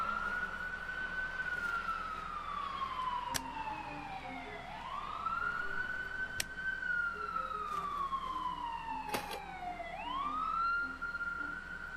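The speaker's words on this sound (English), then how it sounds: "We got a recording of police sirens." Police sirens recorded in the video game The Wardrobe wail in slow rising and falling sweeps, repeating several times at moderate distance, with a few sharp clicks and no voices.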